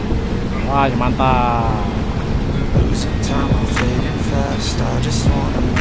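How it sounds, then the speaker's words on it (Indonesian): Low, steady engine rumble with churning water and wind noise, as a ferry's propeller turns, starting with the left engine then the second; people talk and exclaim over it. "Baling-baling sudah berputar teman-teman."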